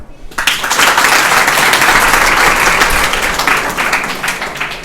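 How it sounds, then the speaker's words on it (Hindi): Loud applause breaks out from a school audience, starting abruptly and holding as a thick, continuous roar of clapping before tapering slightly toward the end. "तालियां।"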